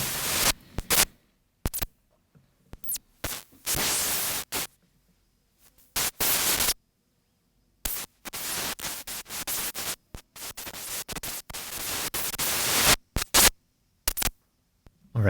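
A very noisy feedback patch on Joranalogue modular synth modules gives off harsh static bursts and scratchy noise that start and stop abruptly, separated by silent gaps.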